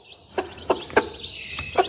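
Several short, soft clucks from hens, spaced irregularly, close by with light background noise.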